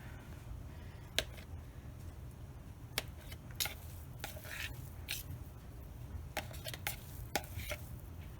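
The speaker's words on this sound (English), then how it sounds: "you can always cut them with the spoon after you get going" A spoon cutting through boiled eggs in a bowl for keto egg salad, giving soft irregular squishy clicks and taps against the dish over a low steady background hum, with no talking.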